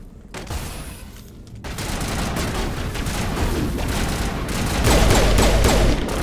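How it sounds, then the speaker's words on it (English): Sustained, loud gunfire from a powerful gun in the video game Mass Effect, a dense fusillade of shots that swells louder toward the end, with no one speaking. "it's like one of the most overpowered guns in the game. It's like almost an insta-kill with that gun."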